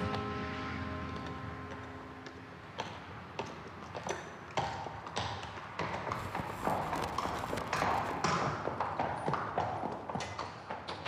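Many horses clip-clop along in a procession ride through a church for a blessing, dense overlapping hoofbeats growing busier and louder after a few seconds, close by, with a brief sustained tone early on.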